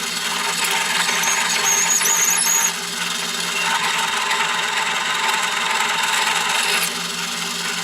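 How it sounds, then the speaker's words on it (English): A Lyman electronic case prepper spins steadily while deburring and chamfering brass cases for 300 Blackout reloading, giving a continuous high-pitched whirring squeal close to the microphone with a brief dip in level partway through. "I've got the Lyman electronic case prepper. So I want to deburr and do the chamfering."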